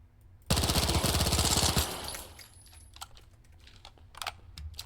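A video game gun empties a whole magazine in one rapid automatic burst of about a second and a half, loud and close, followed by quieter keyboard clicks and faint background noise.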